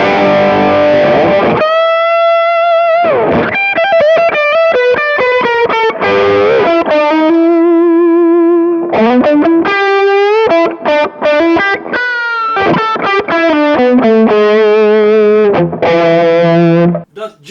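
Distorted electric guitar run through a Kemper amp with a green screen boost, playing loud sustained notes and bends with short phrasing gaps, close and dry, no other sounds.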